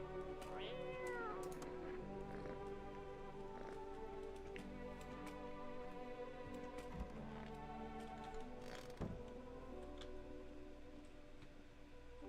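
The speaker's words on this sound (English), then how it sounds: "I'm gonna pick up the cat." A cat gives a short meow near the start of a long, continuous stretch of steady room noise with faint ticking and clicking, fairly quiet overall.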